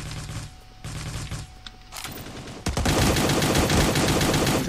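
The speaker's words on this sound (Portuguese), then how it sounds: "Tem alguém atirando em mim aqui ainda, eu não tô conseguindo achar da onde" Rapid automatic gunfire in the battle royale video game Cyber Hunter, bursts of shots at first, then a dense, loud, sustained volley.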